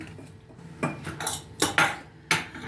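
A utensil stirs semolina into batter, clinking and scraping against the bowl in a few distinct strokes, quiet and close, with short pauses between them.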